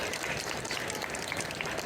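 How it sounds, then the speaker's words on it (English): Dense, steady applause from a convention panel audience fills the space evenly, a continuous wash of many hands clapping at once without pause. "Round of applause, everyone."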